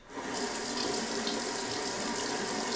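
Tap water runs steadily into a sink, close and moderately loud, with a short rise at the start and no talk.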